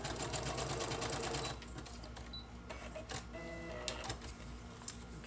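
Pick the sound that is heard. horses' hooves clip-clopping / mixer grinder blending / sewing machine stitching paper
sewing machine stitching paper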